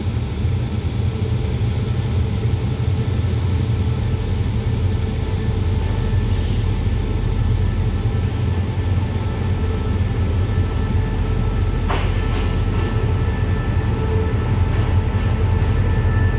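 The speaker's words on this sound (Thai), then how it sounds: "ขบวนพิเศษนำเที่ยวที่ 926 จากเขื่อนป่าสักชลสิทธิ์ค่ะ วันนี้เข้าเทียมในชานชลาที่สาม" A special tourist train from Pasak Jolasid Dam pulls into platform three at Hua Lamphong station on a Saturday evening, giving a loud, steady, close-up rumble with faint intermittent squeals.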